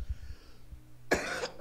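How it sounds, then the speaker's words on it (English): A single sharp cough bursts out near and loud after a stretch of quiet low rumble, with a brief follow-up rasp as it trails off. "I still have a little cough"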